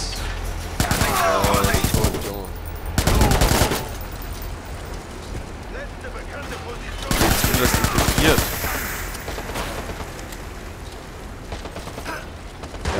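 Bursts of automatic gunfire in the video game Watch Dogs, loud and rapid, arriving in several separate volleys with quieter mechanical clatter between them.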